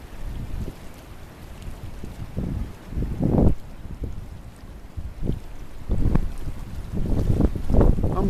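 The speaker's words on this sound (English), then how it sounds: "It's making a lot of noise as it goes past this bridge." Fast, muddy river water rushing past a bridge: a continuous roaring wash with irregular surges and gusty swells, steady and fairly close, with no voices.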